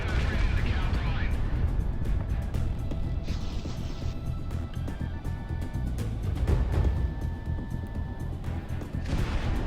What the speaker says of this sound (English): shoot your Macross missiles at a B-52